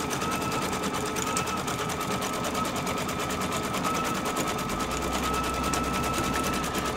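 An embroidery machine stitches out quilting stippling, a fast steady mechanical rattle that runs evenly throughout, close and unbroken, with no voices.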